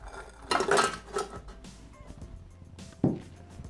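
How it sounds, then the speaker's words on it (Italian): Ladyfinger biscuits drop into a Thermomix TM6 bowl for tiramisu truffles, making a short clattering rustle followed by a single sharper knock near the end. "Mettiamo all'interno del boccale i savoiardi"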